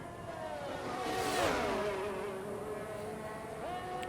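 Williams Formula 1 car engine heard onboard in an Xbox racing game during qualifying at Bahrain, a loud, continuous high-revving whine that swells and shifts pitch as the car accelerates and changes gear.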